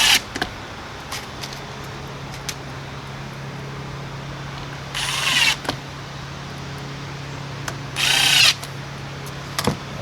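A power screwdriver drives small screws to fasten the throat onto the lid of a stone crab trap, with two distinct whirring bursts a few seconds apart plus light clicks and handling noise in between.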